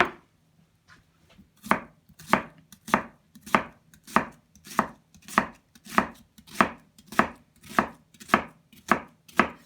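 A knife chops through an onion onto a cutting board in a steady run of about fourteen crisp, evenly spaced thuds, each close and clear, with no talk over them.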